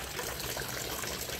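Water trickles steadily back into an aquaponic filter over stones, a continuous close, soft splashing wash with no talk.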